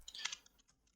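Short burst of computer keyboard typing, a few quick light clicks at the start that fade into faint scattered taps, close and quiet.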